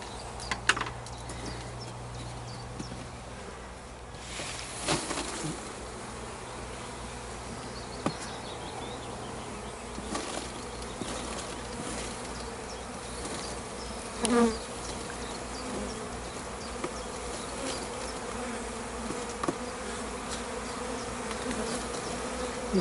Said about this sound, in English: quite a large swarm in this apple tree